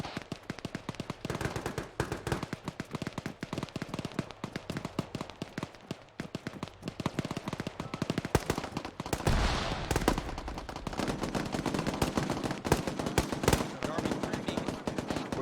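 Gunfire in the military shooter ArmA 3, rapid bursts of automatic rifle and machine-gun shots cracking near and far in dense rhythmic volleys, with radio chatter under the shooting.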